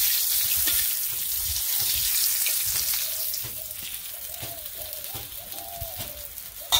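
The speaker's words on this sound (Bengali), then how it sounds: "ভাজুন" Small puti fish fry in a pan with a steady, moderately quiet sizzle, broken now and then by soft pops and faint tonal squeaks.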